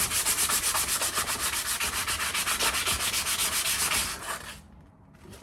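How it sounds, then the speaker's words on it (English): 240 grit sandpaper rubs rhythmically over an old axe head in steady back-and-forth strokes, loud and close, then slows and fades near the end. "so this is 240 grit sandpaper"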